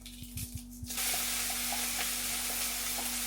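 Mustard seeds and dried red chillies frying in hot coconut oil, a steady close sizzle that swells after a few brief clicks and stirring knocks, then crackles continuously with small pops.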